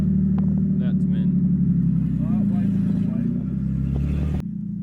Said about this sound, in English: I've never heard a tractor sounding like this